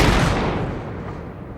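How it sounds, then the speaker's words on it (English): Gunfire from a movie soundtrack: a loud, dense burst of booming shots that rumbles and slowly fades over a second or two. "There's gunshots."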